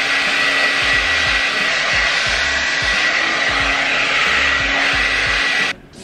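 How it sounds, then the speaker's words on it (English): A hair dryer blow-drying hair for volume, loud and close, a constant high whir with low rhythmic bumps as it moves through the hair, cutting off just before the end. "From here, you're just gonna wanna blow dry a little bit,"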